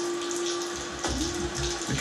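Chocolate ice cream being poured in the video game Downfall, a short, close liquid gurgle and splash lasting a couple of seconds, with a steady tone running beneath it.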